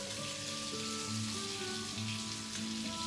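Sea bass pan-searing in a hot pan, a soft steady sizzle and crackle, faint and continuous, with no voice over it.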